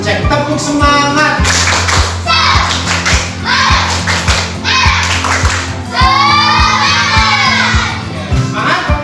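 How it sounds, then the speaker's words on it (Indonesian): A crowd of schoolchildren performs a rhythmic spirit clap at a morning school assembly, sharp repeated claps and thumps in a steady pattern, mixed with loud shouting and chanting voices. "Tepuk semangat."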